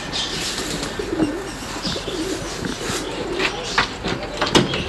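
Roller pigeons cooing softly at their usual evening feeding spot, low murmuring coos repeating close by with occasional wing flaps and rustling against a busy outdoor background.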